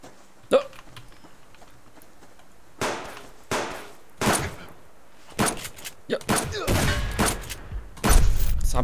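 Rifle shots ring out in the survival video game Subsistence, several loud sharp cracks spaced irregularly, some in quick pairs, with quieter handling sounds and faint background between them.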